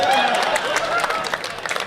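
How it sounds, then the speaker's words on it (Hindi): A crowd claps and cheers at a Haryanvi comedy poetry show, a dense, bright wash of applause that stays steady and loud across the short stretch. "तो अगर कृपा चाहिए तो एक बार मिलकर ताली बजाओ।"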